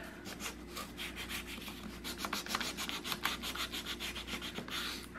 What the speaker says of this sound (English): run that sandpaper down along that edge